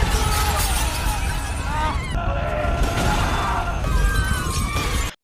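Destruction in a film scene as everything around shatters: loud, sustained crashing and breaking debris filling the whole scene for several seconds, dense and continuous before cutting off abruptly.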